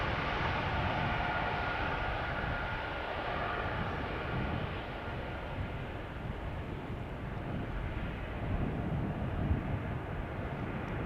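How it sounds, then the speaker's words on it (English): An Air Baltic airliner departs Amsterdam Schiphol with a steady, broad jet roar that holds at an even level throughout, continuous and fairly distant with no voices. "Air Baltic Flight 618 to Riga"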